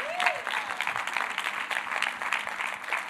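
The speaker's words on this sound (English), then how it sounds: "Give Jesus a hand clap." A church congregation at an evangelistic night service in Fitchburg, Massachusetts, claps hands together, a steady lively round of applause with some voices mixed in.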